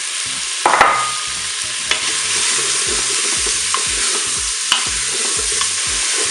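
Onion pieces browning in a Cookeo multicooker, a steady close sizzle with occasional sharp clicks from stirring and a faint repeating low pattern underneath.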